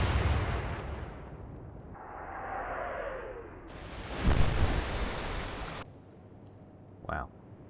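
Naval guns fire in the Atlantic Fleet game during a Royal Navy battle in the Atlantic. A heavy boom with a long rushing whoosh follows a descending whistle. A sharper second burst comes later, with no talk over it.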